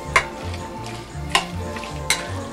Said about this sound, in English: now we stir in what's left of the cheese